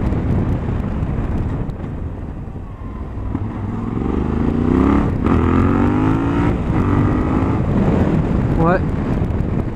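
A Yamaha Ténéré 700 motorcycle with an A2 restricted engine revs while being ridden, its engine note rising and falling under heavy wind rush, with a person speaking over the ride.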